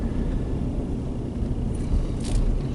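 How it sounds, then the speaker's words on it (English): A car maneuvering to turn around on a residential cul-de-sac, heard as a steady low engine and road rumble close by, with no talking. "I gotta turn the car around here real quick"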